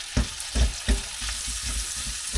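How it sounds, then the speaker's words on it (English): Chicken pieces and onions stir-fry in hot oil, a constant bright sizzle broken by rhythmic scraping thumps of the utensil against the pan, close and clear with no talking. "And you just stir frying."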